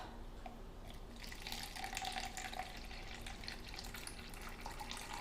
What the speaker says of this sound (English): I'm going to weigh out 120 mils of tepid water